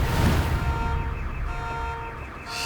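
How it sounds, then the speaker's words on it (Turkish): A car alarm sounds on the street at moderate distance, its repeating electronic tone cycling steadily over low background rumble. "Niye bu alarmları taktırırlar anlamıyorum ha."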